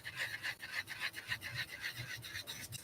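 Quick back-and-forth rasping of a sanding band filing a nail, a steady rhythmic scrape repeating several times a second, close up and alone.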